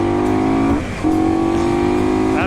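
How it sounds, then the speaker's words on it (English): Indian Scout Bobber motorcycle engine, stock at about 100 horsepower, held at a steady loud drone, briefly dipping as the throttle shifts, then climbing again as it is opened up and accelerates, close and continuous with no talking. "absolutely crack that throttle. It's just unreal how quickly this thing gets up to speed"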